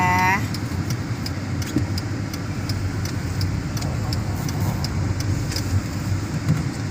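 A car being driven, its steady low engine and road rumble running continuously and close throughout, with faint rhythmic ticking above and a brief tone at the start.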